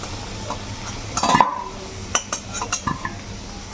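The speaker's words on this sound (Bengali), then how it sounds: "প্রথমে আলুগুলো ভেজে নিচ্ছি।" Potatoes frying in oil in a pan for a Bengali chicken curry, with a stirring utensil clinking and scraping against the metal pan in a few distinct bursts over a soft background sizzle.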